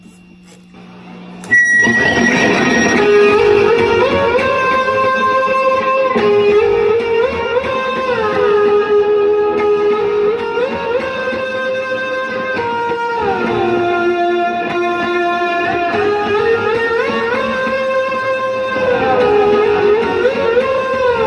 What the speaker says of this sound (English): I flip on the tube screamer. It's going to sound really loud right now